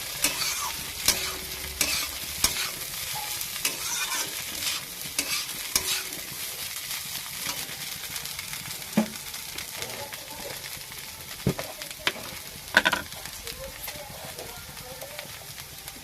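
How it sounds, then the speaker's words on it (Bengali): A spoon scrapes and stirs chira (flattened rice) pulao in a pan over a steady background sizzle of frying, with irregular scraping knocks that stand out at intervals, close and moderately loud. "এবার আমি একটু নড়াচড়া করে নেবো"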